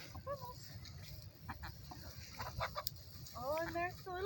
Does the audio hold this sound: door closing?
no